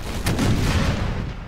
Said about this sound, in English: we're gonna have the Grand Battery open up fire on the enemy cavalry